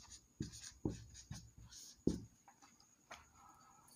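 Chalk or marker writing chemistry equations on a classroom board, with a series of short tapping and scratching strokes in uneven bursts, fairly quiet and close with no talking.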